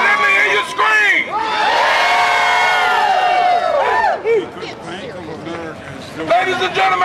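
A protest crowd outside Bank of America in Detroit screams and cheers loudly in a sustained roar of many voices, then eases into a lower hubbub of shouting and chatter.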